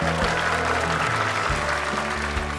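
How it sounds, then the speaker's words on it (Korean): Applause of encouragement rises from an audience after a children's choir performance at a school event in Korea, steady and dense throughout, with a low hum beneath. "격려의 박수 다시 한 번 부탁드리겠습니다."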